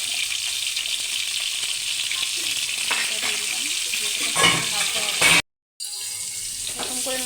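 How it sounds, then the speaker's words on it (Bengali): Whole pointed gourds fry in hot oil in a kadai with a loud, close, continuous sizzle and occasional stirring scrapes. The sound breaks off briefly near the end, then resumes. "এই গরম তেলে আমি পটলগুলোকে প্রথমে হালকা হালকা ভেজে নেব"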